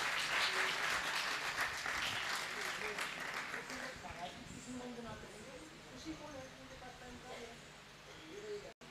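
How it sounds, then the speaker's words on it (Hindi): Audience applause at a kathak dance performance on a cultural stage in Bhiwani: dense, loud clapping from a crowd that gradually thins, while a person talks over the tail end. "सब ज़ोर से तालियां बजा दीजिए"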